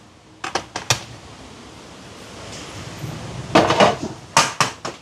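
Metal lid set onto a pot for steaming puttu topped with grated coconut in a Sri Lankan kitchen: two close bursts of sharp clattering clinks, separated by a quieter stretch of low background hiss.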